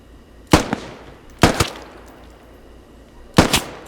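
Gunfire from the military shooter game Squad: three sharp, loud shots spaced about a second apart, each a crack followed by a quick echoing second burst, over a low ambient background with no talking.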